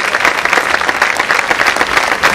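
Steady, dense applause from a concert crowd at the Giardino dei Semplici, continuous clapping at even loudness throughout with no pauses.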